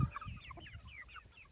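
Chickens on a regenerative farm with meat birds and laying hens cluck softly and repeatedly in short chirpy bursts, fairly faint, with scattered low thumps and no talking.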